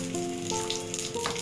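Cumin and carom seeds sizzling in hot oil for an arbi masala dish, a steady close crackle with small pops, no voices.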